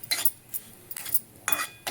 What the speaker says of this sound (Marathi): ह्याच्यात हे रवा टाकून द्यायचा। याला चांगलं असं हलवून घ्यायचं।